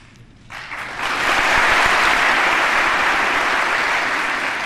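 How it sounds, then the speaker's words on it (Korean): Sustained applause from US Congress members during a speech by South Korean President Park Geun-hye, rising sharply after a quiet start and holding at a dense, loud level throughout. "미국 의회에서 연설할 때 그 참전 용사 출신의 의원들 호명을 해서 그래서 박수를 많이 좀 받았잖아요"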